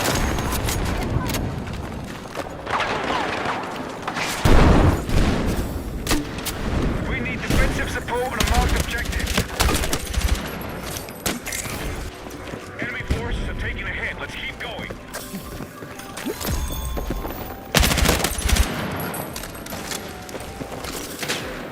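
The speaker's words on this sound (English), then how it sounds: "Got me with a shotgun." Shotgun blasts and other gunfire from the video game Battlefield come as repeated heavy booms at irregular intervals over a dense battle din, with a player's voice talking over it.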